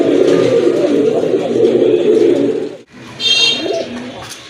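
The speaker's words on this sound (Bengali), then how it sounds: "এখানে আরেক জোড়া রাজগোল্লা কবুতর দেখতে পাচ্ছেন" Rajgolla Giribaj pigeons cooing up close, a loud, continuous throaty rumble that breaks off briefly and resumes, with a few faint chirps near the end.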